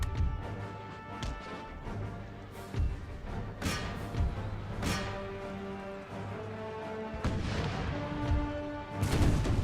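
Artillery fires round shot in an Empire Total War battle at a Louisiana bayou, with repeated booming cannon reports at irregular intervals, some near and sharp, others duller, over a sustained battlefield din.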